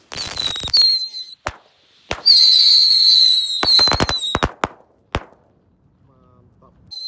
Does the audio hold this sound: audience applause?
no